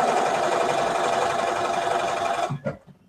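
A sewing machine stitches patchwork squares for a scrappy mystery quilt, running as a loud, steady mechanical whir for about two and a half seconds before stopping abruptly, followed by a few soft clicks and handling noises.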